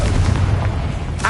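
A Confringo blasting spell going off in Hogwarts Legacy, a loud booming burst with heavy low rumble that fills the whole short moment.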